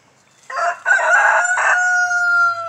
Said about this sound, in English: I could tell the sound of a new crow